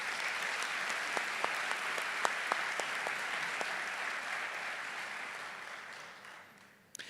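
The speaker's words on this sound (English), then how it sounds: "Please help me in giving these amazing musicians a warm round of applause." A graduation-ceremony audience gives musicians a warm, steady round of clapping that fills the hall at moderate distance, with a few sharper claps standing out before it fades near the end.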